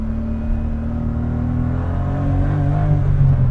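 A BMW E30 M3 engine accelerating in its mid power mode, a close, continuous drone whose pitch climbs steadily and grows louder over a few seconds, with no talking.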